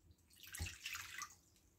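Warm water poured into a bowl for Hungarian lángos dough, a brief close splashing rush that swells and then trails off, with no voices.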